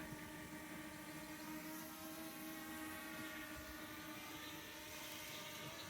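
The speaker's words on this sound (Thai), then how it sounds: "ถ่ายทำเครื่องบิน บังคับกล้องอีกแล้วจ้ะ" A remote-controlled camera drone flying outdoors where wild watercress is being picked, heard as a faint, steady, multi-toned whirring whine that holds constant throughout with no talk.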